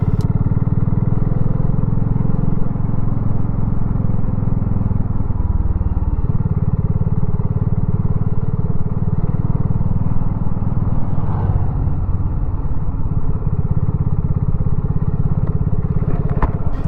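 Motorcycle engine running steadily at a showground autojumble, a continuous close low rumble that shifts slightly in tone partway through as the bike slows to park.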